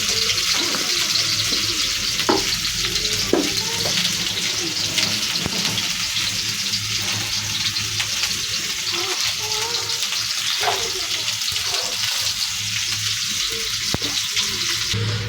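Meat fries in hot oil in a pan, a dense, steady sizzle running the whole time, with occasional soft knocks from stirring layered on top.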